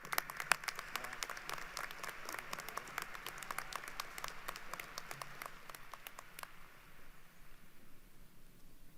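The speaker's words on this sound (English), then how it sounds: "Another round of applause, please" Applause at a UTHealth Houston commencement ceremony, a hall full of hands clapping fairly faintly for several seconds, with distinct sharp claps standing out before the sound tapers off into quiet room noise.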